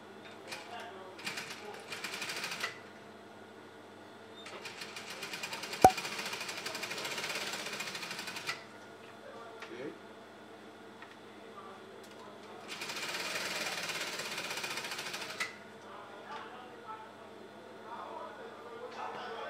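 A sewing machine stitches a high-bended Yoruba cap in two sustained bursts of steady whirring, separated by quieter handling sounds and speech.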